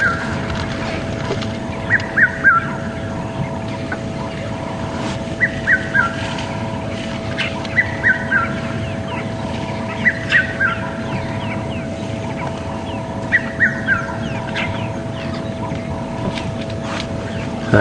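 A red-chested cuckoo calls every few seconds, a short bright phrase over a steady hum and busy outdoor background, at Djuma Game Reserve, South Africa, near elephants.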